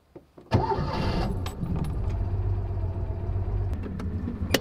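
A classic French car engine cranks and catches with a little choke applied, then settles into a steady, loud, close idle that runs to the end.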